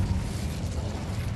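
An Incendio fire spell cast in the video game Hogwarts Legacy erupts as a brief, dense, low rumbling burst with a crackling, mechanical texture, steady and close throughout.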